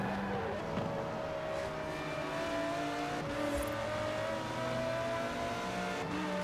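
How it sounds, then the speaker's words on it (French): An Aston Martin Vulcan drives in Forza Horizon 4. Its engine holds a steady drone and shifts pitch as it revs and accelerates, with a brief tire squeal and some road noise, and no voices over it. "J'aime bien la Aston Martin Vulcan"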